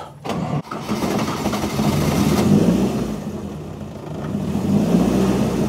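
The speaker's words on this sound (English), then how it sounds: "if I put the car in gear and then fire her up" A car engine cranks and catches, then settles into a steady running rumble that swells slightly as it revs, close and loud.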